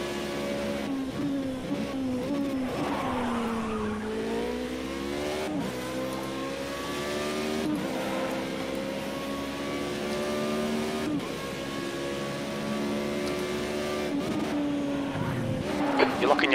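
In a racing video game, a race car brakes into Tamburello and locks its left front tyre, making a sustained engine note with shifting, sweeping pitch and brief squeals, held steady and loud throughout with a faint voice underneath.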